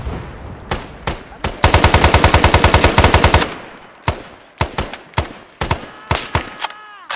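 Gunfire rings out during SOG tactical training: scattered single shots, then a sustained rapid automatic burst, followed by more sharp, loud, close reports with echoing tails.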